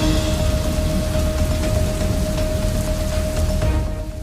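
Heavy unseasonal rain pours down in Kalavad taluka, Jamnagar district, Gujarat, as a dense, steady wash of loud hiss and patter with a constant faint tone running through it.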